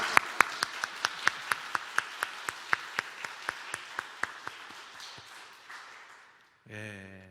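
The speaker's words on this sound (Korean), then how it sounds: "큰 목소리로 사랑합니다 하고 박수를 하는 겁니다" A church congregation claps in a steady, evenly spaced beat, about two dozen crisp claps in a row, then the rhythm fades out and a brief tone follows at the end.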